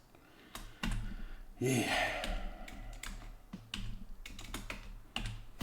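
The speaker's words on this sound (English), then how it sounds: "And then we type." Someone types on a computer keyboard, producing bursts of sharp, close clicks at an uneven rhythm, with a brief sigh and a short spoken word in between.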